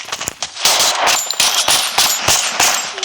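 Rapid bursts of MP5 submachine gun fire in the shooting game Free Fire, loud and close, with several rattling volleys separated by brief gaps and no talking.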